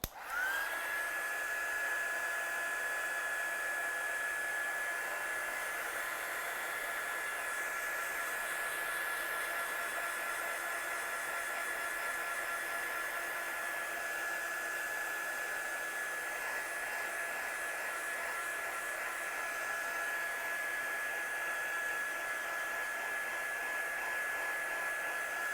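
A hair dryer runs steadily for the whole stretch, drying ink on a craft background. Its loud, even blowing whine holds one tone from start to finish with no talk over it.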